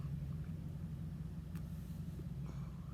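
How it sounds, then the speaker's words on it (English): Low, steady engine rumble of a truck starting up close by and pulling away, a continuous drone without voices. "Somebody just started their truck"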